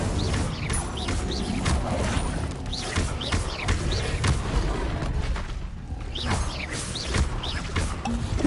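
The Incendio fire spell cast repeatedly in Hogwarts Legacy, producing dense, crackling bursts and booming impacts with whooshing flares that keep rolling one after another for several seconds.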